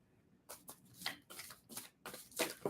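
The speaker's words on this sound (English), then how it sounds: "Let me shuffle the other deck too." Cards riffle and slap together in quick repeated bursts, close and crisp, a deck being shuffled several times.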